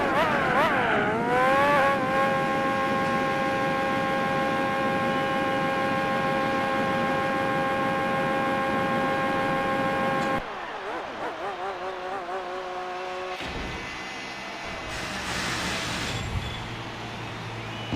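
A car in Gran Turismo 4 sits in the pit box for a tyre change and refuel: a steady loud engine drone holds for several seconds, then shifts to lower mechanical whirring and tonal servicing noise.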